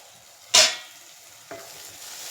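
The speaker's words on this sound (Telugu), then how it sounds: "మనకు ఆనియన్ టమాటా ఇది కూడా బాగా ఫ్రై అయిపోయింది" Onion and tomato for an egg gravy curry sizzle in a pan, with one sharp burst of frying hiss followed by a quieter second stir about a second later, no voices.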